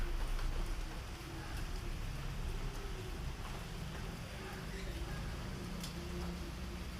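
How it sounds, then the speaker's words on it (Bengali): Steady, dense morning rainfall pours down continuously, a broad hiss with low rumbling underneath that stays even throughout. "খুব বৃষ্টি হচ্ছে"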